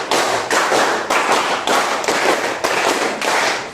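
A classroom doing a rhythmic counting clap game: eight sharp, loud bursts of group hand claps in an even pulse, each with a short ringing decay, without any talk over them.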